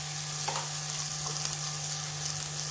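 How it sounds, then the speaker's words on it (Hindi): Chicken pieces fry in a pan with a steady, close sizzle and crackle, while a low constant hum runs underneath and no one speaks. "बस 3 से 4 मिनट के लिए फ्राई करेंगे ताकि इनका कच्चापन दूर हो जाए"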